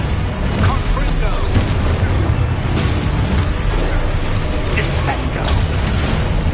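Loud, dense spell combat in Hogwarts Legacy, with a Confringo fire spell among steady booming impacts and crackling mechanical effects, under continuous game sound and talk.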